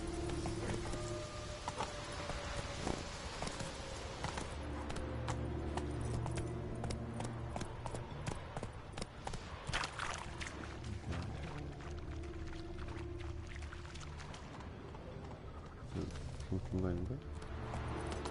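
In The Witcher 3, the horse Roach's hooves clip-clop steadily along under game music and ambience, moderately loud through the stretch, while someone talks over it.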